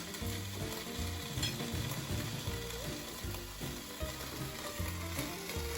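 Beef cheek taquitos with salsa and cheese sizzle steadily in a hot pan, a continuous frying hiss with faint tonal music-like layers underneath and occasional clicks from handling.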